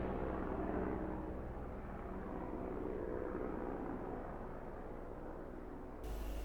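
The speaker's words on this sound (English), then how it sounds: "the helicopter just took off nearby, probably police" A helicopter, probably police, just after taking off nearby: a faint, continuous rotor-and-engine drone that holds steady throughout, with no voices.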